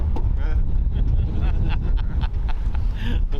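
Gusty wind buffets the microphone outdoors during a hunt in the Eastern Cape, making a loud, continuous low rumble that runs through the whole stretch with brief crackling bursts.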